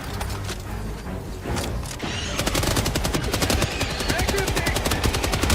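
Rapid automatic gunfire from the video game Helldivers 2, loud and continuous, shifting into a dense, fast rhythmic burst of shots over a busy backdrop of game noise.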